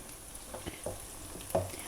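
Garlic cloves and white cumin seeds frying in a pan for aloo methi sabzi, a soft steady sizzle with a few stirring scrapes and clicks, quiet and close, no talking.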